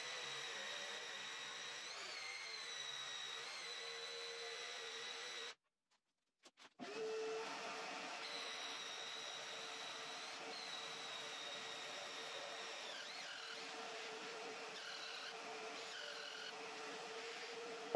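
A Parkside PSTDA 20-Li B3 cordless jigsaw cuts through 60 mm wood with a steady, whining motor and rasping blade, stops briefly for about a second, then resumes cutting continuously.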